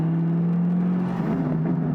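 Chevrolet Camaro fitted with an MBRP cat-back exhaust cruising at 25 mph, a steady loud low drone that rises slightly in tone near the end, continuous and close.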